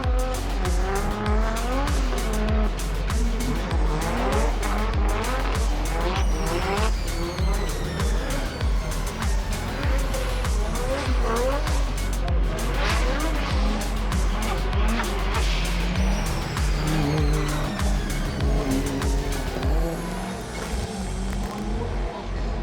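Drift cars accelerate and slide across a wet track, engines roaring continuously with tire squeal and skidding throughout, loud and close at a competition event, with faint commentary underneath.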